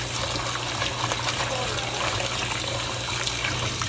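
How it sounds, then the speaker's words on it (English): Tap water runs steadily into a three-compartment sink while pork is rinsed for jerk pork, a constant close gushing wash that carries on under background voices. "Now rinse the meat out."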